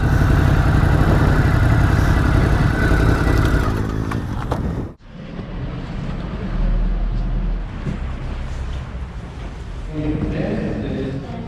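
A 2019 Ducati Scrambler 1100 engine rumbles loudly while being parked, then cuts off abruptly midway, leaving quieter street background, with a voice speaking over it.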